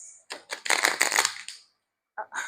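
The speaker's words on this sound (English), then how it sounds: "I'm gonna shuffle the cards." Tarot cards are shuffled up close in quick riffling bursts, a dense flurry followed by a pause and two brief shuffles, with no talk.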